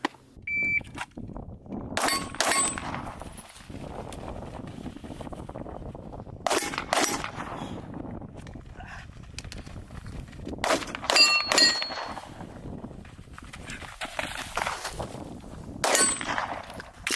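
Shots ring off steel targets at an outdoor shooting range, sharp metallic clangs arriving in quick pairs and small clusters at intervals, close and bright, with little talk.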